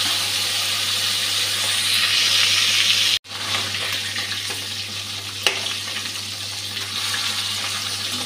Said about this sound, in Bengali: তেলটা গরম হয়ে গেছে, নুন হলুদ মেখে রাখা মাছটা দিয়ে দিচ্ছি।